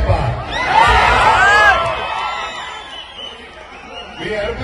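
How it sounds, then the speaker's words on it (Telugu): A large crowd at a public event cheers, whoops and shouts loudly, peaking in the first two seconds then easing into a lower roar, with a voice addressing the crowd. "మీ అరుపులకి రోమాలు ఎప్పుడు నిక్కబడుతుంటూ ఉంటాయి."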